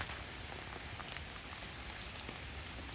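Rain falls steadily on trees and ground outdoors, a dense even hiss with scattered drops, close and continuous with no talking.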